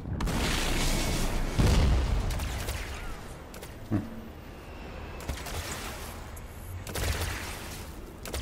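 Rapid gunfire and booming blasts from ground troops attacking a base in a strategy video game, dense volleys at the start easing into scattered shots and thuds, rising again near the end.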